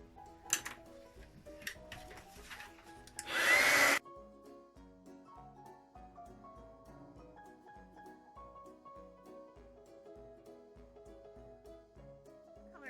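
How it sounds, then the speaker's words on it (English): A handheld heat tool blows over embossing powder on cardstock in a short, loud rushing whoosh lasting about a second, surrounded by quiet crafting taps and small clicks. "And set it with my heat tool."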